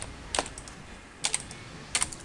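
Close computer keyboard typing during a World of Warcraft session, short bursts of a few quick key clicks separated by pauses over steady background noise.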